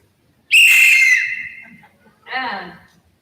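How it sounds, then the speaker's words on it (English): A police whistle played in a band concert gives one long, shrill, piercing blast, then a second shorter, rougher blow, both loud and close in an otherwise quiet moment. "Police whistle."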